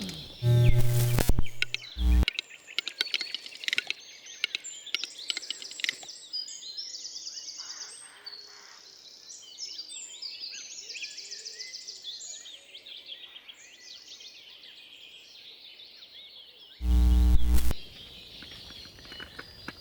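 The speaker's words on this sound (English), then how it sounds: "you can hear calling in the background now, but that's actually a recording which is attracting the birds" Recorded bird calls played as a lure: a busy chorus of high, overlapping chirps and calls runs steadily, bracketed by brief loud thumps and handling noise near the start and end.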